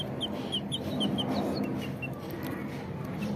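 Chicks peep in quick, high chirps against a steady farmyard background, with soft low clucking underneath.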